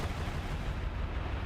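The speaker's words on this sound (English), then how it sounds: "There are explosions behind Arise." Explosions in a Blue Archive animation rumble as a loud, continuous, booming roar of heavy blasts, dense and close, with no voices.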